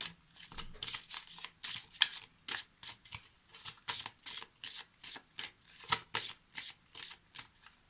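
Angel answer oracle cards being shuffled by hand, a close, crisp riffling swish repeated in quick regular bursts, with short pauses between strokes and no talking.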